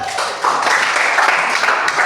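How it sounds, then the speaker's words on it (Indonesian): Students in an Indonesian classroom break into applause, a loud, close, dense burst of clapping that runs steadily for a couple of seconds. "Tepuk tangan."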